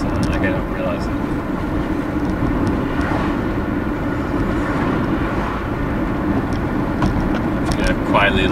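Steady road noise from a car on the move, a continuous low engine-and-tyre rumble held at an even level for the whole stretch, with no voices over it.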